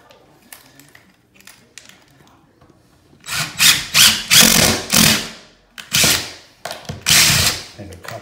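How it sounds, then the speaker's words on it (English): Power drill whirring in short repeated bursts as 1¼-inch decking screws are driven into a floor during a pre-carpet repair, loud and close, preceded by quieter clicks and handling noise. "Now we'll just screw it back in place. We're just using 1¼-inch decking screws."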